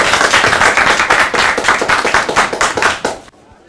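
An audience claps after a talk ends at a university-industry partnership event, a dense burst of hand claps lasting about three seconds before cutting off abruptly into quiet.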